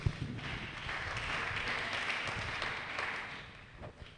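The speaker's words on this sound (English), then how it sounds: "Please, can we clap until they return to their seats?" An audience at a green chemistry workshop at Akwa Ibom State Polytechnic claps steadily, a dense, continuous wash of hand claps that holds for several seconds before easing slightly.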